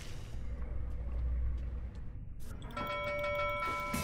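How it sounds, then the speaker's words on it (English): A nautical bell in the video game Pyre rings out after a low rumbling stretch, a clear metallic tone with ringing overtones that sustains and fades over the last second and a half, heard alone without talk. "Ruki shall never forgive you for abusing the nautical bell."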